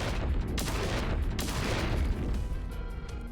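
Cannon fire in the video game The Last Spell bursts out in a dense, booming barrage of overlapping blasts, loud and continuous, with sharper hits near the middle and thinning slightly toward the end.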